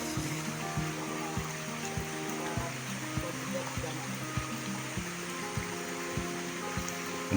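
Strong floodwater left by a typhoon rushes down from higher ground beside a house, a steady close roar of churning water with regular low thumps pulsing through it.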